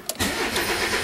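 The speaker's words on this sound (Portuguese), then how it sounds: "O motor tá ligado, o funcionamento aí tá normal" A car engine is started with the ignition key: a brief cranking burst, then the motor catches and settles into a steady mid-pitched idle close by.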